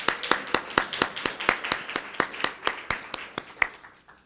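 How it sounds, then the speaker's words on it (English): Applause at a campus reception in the Vanguard Hotel: a small crowd's sharp, fairly sparse claps in a steady uneven patter, close by and moderately loud, lasting a few seconds with no talk over it. "Round of applause, please."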